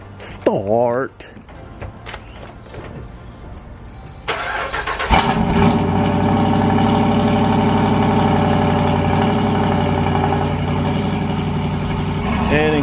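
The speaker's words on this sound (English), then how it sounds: "Now it's time for a mother effing cold start." The twin turbo Hellcat engine in a Durango with a mid-muffler delete cold starts: brief voice and clatter at first, then starter cranking, and a loud catch into a deep, steady, rumbling high idle that carries on to the end.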